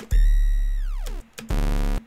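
Two heavily distorted 808 bass notes run through warm tape distortion, the first long and sliding downward in pitch, the second shorter and steady, both loud, gritty and saturated.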